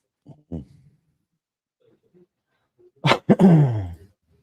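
A short cough early on, then after a pause a louder burst of two sharp coughs or a throat-clear trailing into a voiced sound, close by.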